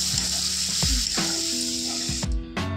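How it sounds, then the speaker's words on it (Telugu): Chopped onions fry in hot oil with mustard seeds, cumin and urad dal in a loud, continuous sizzle, with a spatula scraping and stirring through the pan a few times. "అవి వేసి ఒక 1 to 2 minutes వరకు ఈ ఆనియన్స్ అనేది బాగా వేగేటట్టు చేసుకోవాలన్నమాట"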